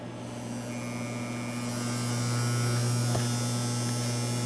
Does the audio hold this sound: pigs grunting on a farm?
no